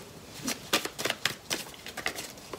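Tarot cards are shuffled and cut by hand in a quick series of crisp, papery riffles and slaps, close and fairly faint, with no talking.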